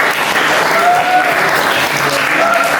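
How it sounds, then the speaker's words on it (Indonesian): A crowd in a motivational class at an Islamic boarding school in Sukabumi applauds, producing loud sustained clapping throughout with faint cheering tones layered in. "Sekali lagi kita berikan aplaus yang meriah."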